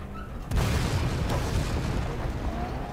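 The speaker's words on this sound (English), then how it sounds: "Whoa, it's an explosion." A deep booming explosion in Resident Evil 2 erupts suddenly and loud, then rumbles and crackles on with a long low roar beneath faint game music.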